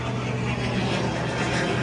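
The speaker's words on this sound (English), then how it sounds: "So first you gotta start the car." Honda CRX Si engine turning over and idling, a steady close broadband rumble with a low throbbing hum that holds evenly throughout, no talk.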